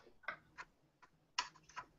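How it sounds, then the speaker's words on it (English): A few scattered, faint clicks and taps come in small irregular bursts, like light typing on a keyboard heard quietly in the background. "I'm getting someone typing, but I can't find it."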